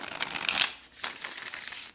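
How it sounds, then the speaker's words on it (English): A tarot card deck is shuffled by hand in two quick riffling bursts separated by a brief pause, close and crisp, with no talking. "as I shuffle the cards"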